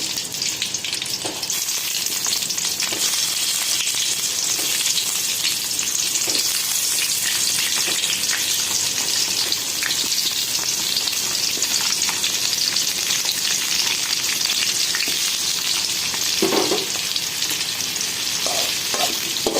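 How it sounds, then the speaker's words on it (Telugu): Halved tomatoes fry in hot oil in a pan, producing a loud, dense, continuous sizzle and crackle that holds steady throughout with a few brief spatters and knocks. "ఇవి రెండు భాగాలుగా కట్ చేసి వీటిని నూనెలో వేసుకోవాలి"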